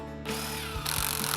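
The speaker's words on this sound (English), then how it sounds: "mastering the power screwdriver" A power screwdriver whirs in short bursts as it drives screws into maple wood, close and moderately loud, with a brief ratcheting grind between runs.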